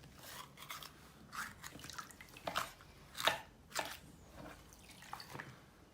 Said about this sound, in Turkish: Soğanları da iri doğrayacağız